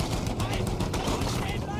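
Rapid gunfire and explosive bursts from a World War I tank battle in Battlefield 1, a dense, continuous clatter of shots layered under low rumbling for about two seconds, with faint voice-like sounds mixed in.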